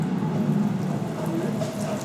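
Rain falling outdoors, a dense steady patter heard close and fairly loud for a couple of seconds with no voice.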